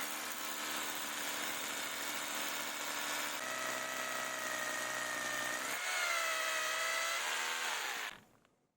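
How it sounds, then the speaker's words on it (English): Power drill boring a hole into concrete beneath blockwork for a chicken coop, a loud steady whine with harmonic tones that shift pitch near the end before stopping abruptly. "drill a hole into the concrete below."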